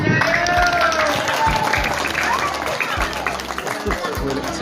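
Audience applause for children presenting at a primary school quiz competition, a broad, steady wash of clapping and crowd noise lasting throughout, with voices mixed in underneath.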